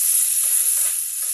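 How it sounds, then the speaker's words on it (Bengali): Ginger, onion and garlic paste fries in hot oil in a wok, giving a steady, close hiss of sizzling throughout with no talk. "এবার আদা, পেঁয়াজ, রসুনের পেস্ট দিলাম।"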